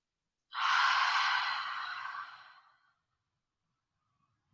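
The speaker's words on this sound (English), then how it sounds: "Take a couple deep inhales" A single long, deep exhale through the mouth during a Hatha yoga breathing exercise, breathy and close, fading out over about two seconds before near silence.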